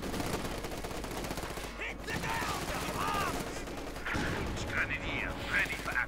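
Maxim machine gun bursts and scattered gunfire crackle in a Company of Heroes 2 battle, quick rattling volleys at mid distance mixed with game effects and a voice talking over the action.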